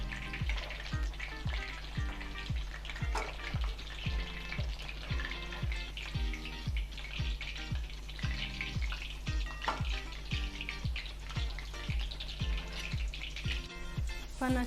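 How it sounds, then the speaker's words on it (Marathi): Pieces of jackfruit fry in hot oil for a curry, a steady close crackling sizzle with regular stirring taps throughout and no talking. "इतक्याच आपल्याला या फोडी अशा तळून घ्यायच्या आहे"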